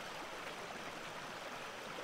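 Huatulco River water flowing steadily, a dense continuous rushing and bubbling over stones, close and even throughout with no voices.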